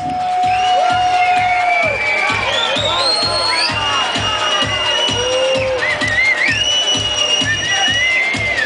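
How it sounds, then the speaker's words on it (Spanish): A crowd at a carnival night party in Palma cheers and whoops over loud, pounding dance music with a steady beat, festive shouts and whistles rising above the music. "un aplauso por favor para el equipo de animación de la Demens"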